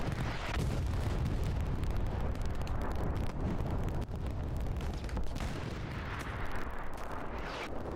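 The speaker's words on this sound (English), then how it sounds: "massive artillery to hit" Heavy artillery barrage pounding continuously in the World War II shooter Hell Let Loose, dense rumbling booms and blasts overlapping for the whole stretch, loud and unbroken with no pauses.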